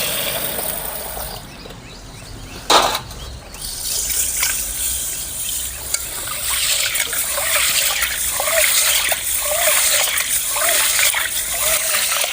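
Water is poured over roasted cowpeas and swished as they are rinsed by hand, giving a steady trickling and splashing with a brief louder gush early on, close and continuous.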